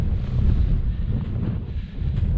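Cold wind sweeps over a mountain summit in the Applecross hills of Scotland, a steady low buffeting rumble close to the microphone with no other sounds.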